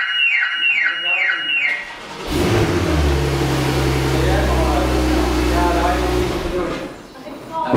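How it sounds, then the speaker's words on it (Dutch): A keyless car being started sets off its alarm with a rapid, repeating electronic chirp, after which the engine cranks and idles loudly and steadily for several seconds before dropping away. "Deze auto is voorzien van alarm."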